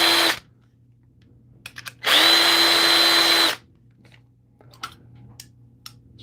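A power case trimmer cuts 6.5 Creedmoor brass cases during reloading, giving two loud, steady whirring bursts, one brief at the start and a longer one of about a second and a half, separated by quiet handling clicks.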